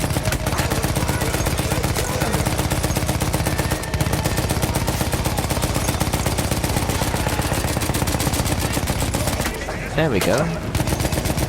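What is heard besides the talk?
gunfire in Battlefield 1 video game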